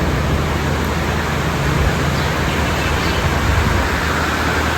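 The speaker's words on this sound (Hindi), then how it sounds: "बहुत तेज़ बारिश हो रही है," Very heavy rain pours down steadily in Bhutan on a stretch of road between Thimphu and Gangtok, a dense, even hiss with no breaks, loud and close, and no voices over it.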